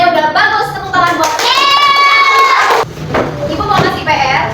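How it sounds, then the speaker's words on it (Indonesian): Children in a primary school classroom clap their hands together in a brief burst, mixed with kids' voices and a teacher talking over and after the clapping. "Tepuk tangan buat."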